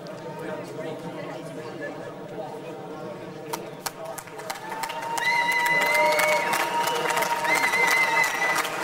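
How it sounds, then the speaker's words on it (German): Crowd applause and cheering for two boxers, Jürgen Brähmer and Aleksy Kuziemski, after their fight, building from a steady arena murmur into a louder, sustained ovation beneath a commentator's talk. "jetzt auch der Beifall für Jürgen Brämer, aber auch für Alexi Kuziemski, der ihm einen guten Fight geliefert hat"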